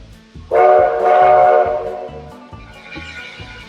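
A Black Hills Central Railroad steam train near Hill City, South Dakota, sounds a loud whistle blast that swells and then fades, with a rhythmic backing underneath.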